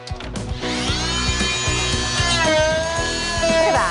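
A Fein MultiMaster FMM 250Q with a scraper blade runs at a constant high whine while stripping carpet and pad off a floor, with scraping thumps under it and a brief word spoken at the start.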